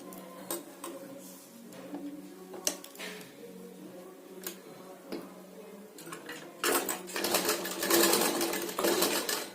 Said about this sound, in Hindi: तो पहले हम इसकी सिलाई करेंगे।